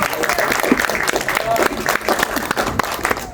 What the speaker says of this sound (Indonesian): Tepuk tangan dong untuk Ibu Christine.